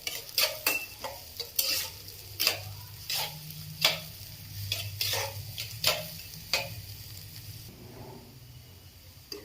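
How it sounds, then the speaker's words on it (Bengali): Chopped onion and green chili fry in hot oil in a pan, a loud hiss punctuated by a dozen crisp spatula scrapes and taps in an irregular rhythm, settling to a quieter sizzle near the end, with no talking. "পেঁয়াজটা লাল করে ভেজে নিতে হবে একদম।"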